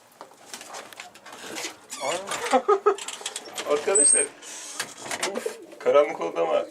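Indoors in a pigeon coop, a pigeon that has got inside coos in soft, repeated bursts close by, mixed with other birds and someone talking.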